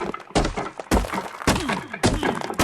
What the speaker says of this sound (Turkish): kazmalarla vuruyorum vuruyorum bir şey çıkmıyor